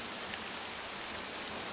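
Steady rain hisses evenly in the video game Octopath Traveler II, a soft, continuous downpour with no other sounds.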